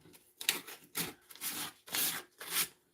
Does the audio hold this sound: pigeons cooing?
no